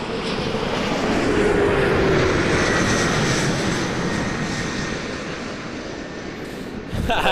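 An airliner departing runway 05 at Toronto Pearson roars with a steady broad engine rumble that swells and then eases slightly as it moves off, loud and continuous with no talk over it.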